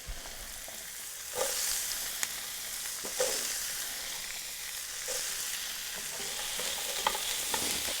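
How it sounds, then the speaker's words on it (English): Onions sizzle steadily in hot coconut oil, a constant crackling hiss with occasional soft scrapes and stirring sounds, no voices. "I can hear it sizzling."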